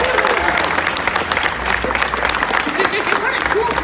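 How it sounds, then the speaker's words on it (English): An audience at an outdoor bird show applauds volunteers, a dense burst of many hands clapping steadily, with a voice speaking over it and faint bird calls mixed in. "How about a round of applause for our volunteer adventurers?"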